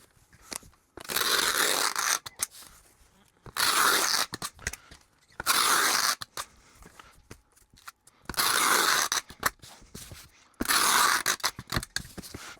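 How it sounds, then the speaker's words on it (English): Packing tape being pulled off the roll and pressed onto a cardboard shipping box, several loud screeching strips of one to two seconds each with short pauses and light handling noises between, close and without talk. "let's get our tape on here"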